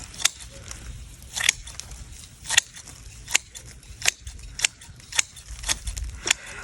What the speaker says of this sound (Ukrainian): якби зсередини ставлю під кутом ножиці і так зрізаю